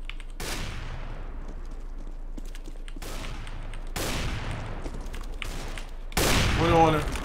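Gunfire in the online shooter game CS:GO, a few sharp shots spaced a second or more apart with decaying tails, ending in a louder burst.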